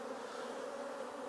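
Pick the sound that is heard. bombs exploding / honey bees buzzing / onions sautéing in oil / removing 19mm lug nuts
honey bees buzzing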